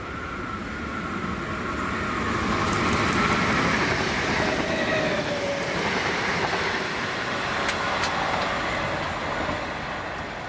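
A Varamis Rail class 321 high-speed freight unit, 321334, runs past with a steady, fairly loud rumble and rhythmic wheel clatter across the whole stretch, a few brief high squeals near the end.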